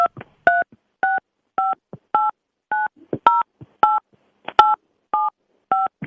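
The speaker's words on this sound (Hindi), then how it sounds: "आप अपने मोबाइल फोन से अपना डेबिट कार्ड का 16 अंक का जो नंबर" Mobile phone keypad tones ring out as a 16-digit debit card number is entered: about eleven clear, loud beeps in a steady, evenly spaced sequence, with nothing else in the background.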